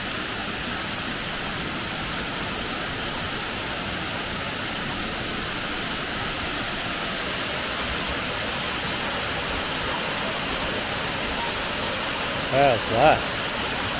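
Millaa Millaa waterfall roars as a steady, loud broadband wash throughout, with a brief voice near the end.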